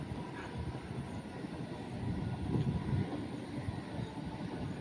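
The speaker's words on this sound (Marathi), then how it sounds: "ट्रेन मस्त चालली आपली" A train runs along a hillside route near a dam on the way to Palasdari Waterfall, heard as a steady, distant low rumble that swells slightly in the middle and carries on without any talk.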